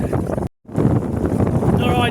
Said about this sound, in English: I can't even steer now, it's so windy